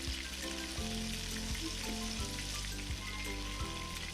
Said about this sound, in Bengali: আমি একটু তেলের মধ্যে ভালোভাবে পেঁয়াজের সাথে আদা রসুনটা ভেজে নিচ্ছি